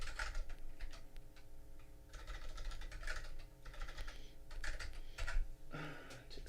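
Continuous fast typing on a computer keyboard at a desk, with close clicky keystrokes in bursts and brief pauses, over a low steady hum.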